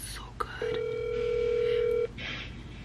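A single outgoing phone call tone holds steady for about a second and a half, loud and close, with brief clicks just before it and room noise after.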